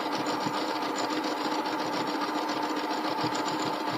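A sewing machine stitching elastic onto bralette fabric runs steadily with a fast, even mechanical whirr and rapid needle ticking throughout.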